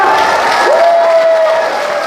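An audience at a Busan civic forum on a planned independence-movement memorial park applauds, a dense steady wash of clapping with a held voice tone partway through, loud and continuous.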